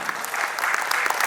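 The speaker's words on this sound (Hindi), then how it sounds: "एक बार तालियों के साथ स्वागत करते हैं श्री संजय कुमार बाटला जी का" Audience applause welcoming a guest at an annual awards ceremony, dense even clapping from a crowd held for the whole short stretch, fairly close and loud.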